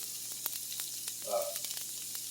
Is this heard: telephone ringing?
no